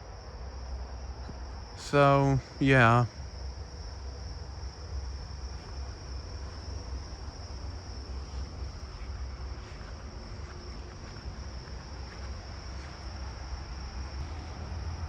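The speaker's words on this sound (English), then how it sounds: "Let's see if I can get any closer to the tree crickets." Tree crickets chirp at night in a steady, continuous high trill through the whole stretch, joined by low wind rumble, while two brief bird-like calls stand out near the start and a person speaks briefly.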